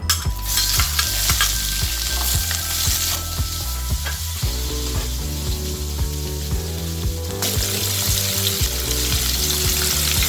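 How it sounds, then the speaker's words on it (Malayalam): Chopped onions go into hot oil already holding cinnamon sticks and a bay leaf for a Kerala-style pepper chicken, a loud, steady sizzle of frying with intermittent scraping and stirring strokes against the pan throughout. "ഇതിലേക്ക് സവാള അരിഞ്ഞത് ഇട്ട് വഴറ്റാം."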